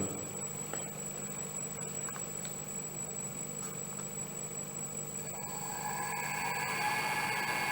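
An electric motor on a variable frequency drive starts and runs up toward 50 Hz. It makes a steady, close electrical hum whose tones shift and brighten partway through as it speeds up.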